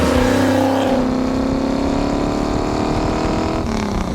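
A 1967 Shelby Mustang GT500's 7-litre V8 engine revving hard and loud, its pitch climbing and then settling into a steady, throaty drone close by.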